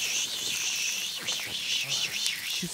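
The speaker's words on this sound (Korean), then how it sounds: "근데 매미 소리 들어봐봐, 매미 소리" Cicadas drone in a loud, steady high-pitched buzz that pulses and wavers throughout, with faint voices and small noises underneath.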